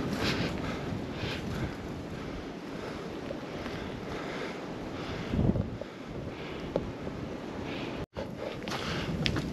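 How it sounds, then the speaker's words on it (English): Wind blows outdoors at night among trees where limbs have fallen, a steady loud rush with gusts buffeting the microphone and no talking. "So it is windy,"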